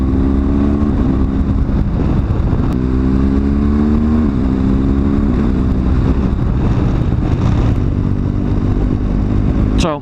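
A 2018 BMW R1200GS Adventure with a 1200cc boxer twin engine hums loudly and steadily during a ride, with throttle rises and falls in its deep rumble and wind noise, no voices.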